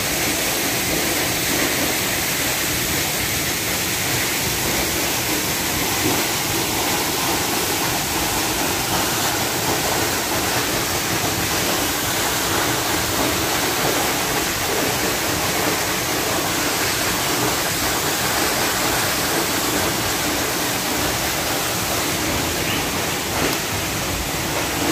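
Kanyangan waterfall at Ramon Magsaysay, Zamboanga del Sur, roaring as a steady, dense broadband rush of falling water that stays loud and unchanging throughout, with no voices over it.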